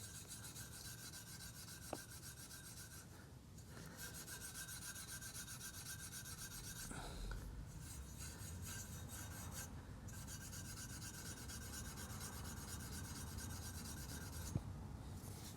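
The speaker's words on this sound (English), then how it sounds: "Don't be afraid to scrub with the steel wool." Steel wool rasps steadily against a stained chrome exhaust tip, a close, continuous scrubbing that runs throughout with a few brief pauses between strokes.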